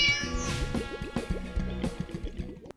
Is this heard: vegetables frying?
no